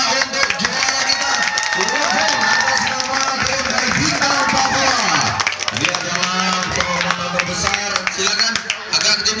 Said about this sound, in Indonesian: Hadirin penonton, mohon tepuk tangannya untuk juara kita.